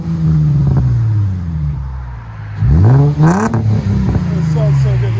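A lowered 2005 Infiniti G35 with a DTM muffler revs hard and close by. A deep exhaust note climbs and falls twice in a row, and a voice is heard around the revs.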